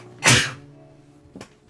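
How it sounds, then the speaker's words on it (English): One loud, sharp sneeze from a person bursts out close by, followed about a second later by a softer, shorter sneeze-like burst, with quiet between. "I'm trying really hard not to sneeze"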